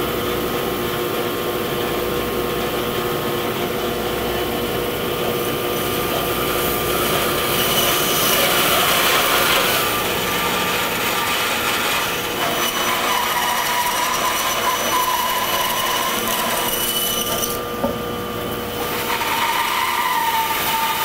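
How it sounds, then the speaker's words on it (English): A saw blade cuts slowly through crotch wood, producing a loud, continuous grinding whine that holds steady and close for the whole stretch, with no voices. "take it slow and watch that angle of that blade as you're cutting"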